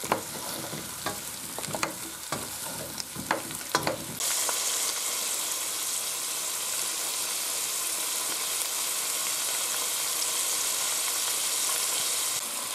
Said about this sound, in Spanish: Y esto lo rehogamos durante 5 minutos todo junto.